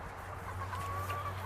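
Backyard chickens cluck softly and continuously at a moderate distance over a low steady hum, with no voices.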